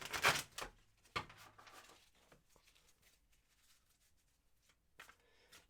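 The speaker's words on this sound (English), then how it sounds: "and we're going to shuffle the cards again." Tarot cards are shuffled by hand in a few quick riffling bursts near the start, then soft intermittent rustles and taps of the deck, close and quiet with no talk.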